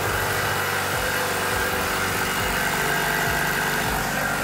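Subaru BRZ fitted with an exhaust silencer at cold start, the engine running loud and steady with a dense, droning rumble at fast idle, close and constant, with no voices.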